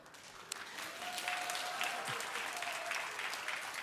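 Young people in a congregation at a Korean church in Bundang break into sustained applause, a dense wash of clapping that swells after a quiet start and stays level, with a faint tone running beneath.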